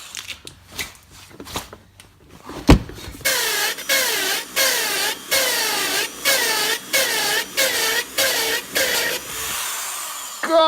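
A wood-cutting power saw grinds against steel it cannot cut, repeating in rapid strained bursts about every half second at close range after a few sharp clanks and knocks.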